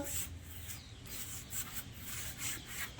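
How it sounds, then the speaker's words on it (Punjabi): Oil being rubbed onto mesh door screens with a cloth, a quiet, close rubbing swish in gentle back-and-forth strokes, soft and steady with no talking. "ਇਸ ਤਰੀਕੇ ਨਾਲ ਆਪਾਂ ਜਾਲੀਆਂ ਤੇ ਘਸਾ ਲਾਂਗੇ"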